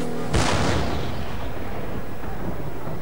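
A cannon fires once with a loud, sharp boom that rolls into a long, fading rumble, heard alone.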